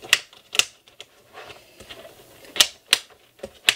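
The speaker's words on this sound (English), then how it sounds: "I love the sound of these rings or the discs, stuff going in them." Pages clicking onto the plastic discs of a Happy Planner being set up, a few sharp snapping clicks at irregular intervals with quiet shuffling between them, close and alone.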